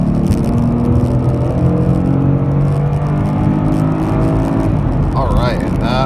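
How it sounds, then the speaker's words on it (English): A 2011 V6 Ford Mustang with a tune launches at full throttle, a loud, close engine roar climbing steadily in pitch through the run, with tire noise and a voice briefly under it near the end. "Let's test out the responsiveness of this car. Okay, we're just gonna punch it."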